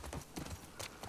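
Horse hooves clip-clop in The Last of Us Part II, a quick run of irregular thuds over roughly a second, moderately close with a steady game ambience beneath and no talk.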